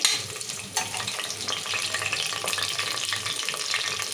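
Onions and ginger-garlic paste fry in oil for a mutton curry, a close, steady crackling sizzle with occasional scraping stirs.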